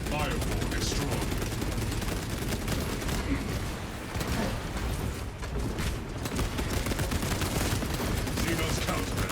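Heavy bolter firing in the Space Marine video game, a relentless roaring stream of rapid gunfire shredding hordes, loud and continuous with explosions mixed in, and game voices underneath.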